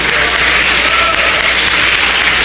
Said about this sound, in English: Please let's give a loud round of applause to our beloved historian, master teacher, Dr. Browder.